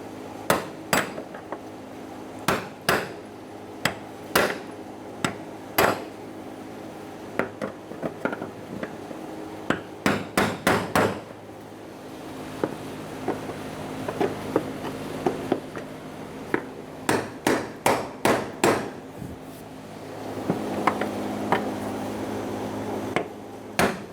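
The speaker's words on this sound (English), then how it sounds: "Get it fully secure using a brass punch." Sharp metallic taps from a brass punch seating a fuel pump module lock ring on a Chevrolet Sonic, struck in quick bursts of several hits, pausing between clusters, close and crisp, with a faint steady hum underneath.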